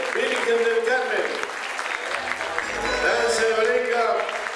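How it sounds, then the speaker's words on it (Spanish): An audience applauds for the ballet Virgen del Carmen, a dance troupe, at an outdoor Festival del Ternero Entrerriano in 2019. Sustained clapping continues under a voice on the sound system. "Vamos a recibir con un fuerte aplauso."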